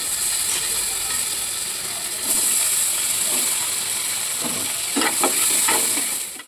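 Tomatoes fry in melted butter in a hot pan for a momo chutney, a continuous bright sizzle and hiss with stirring scrapes that grow busier toward the end, with no talking.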